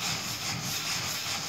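A handheld rock rubs over a wallaby skin in steady circular strokes during bush tanning, sanding off the soft fluffy layer with a continuous close, even scraping hiss.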